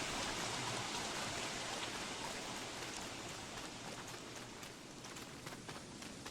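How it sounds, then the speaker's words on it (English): Steady, dense rain falls without pause, a continuous hiss of drops on surfaces, in the video game Don't Starve Shipwrecked. "Is this rain ever gonna stop?"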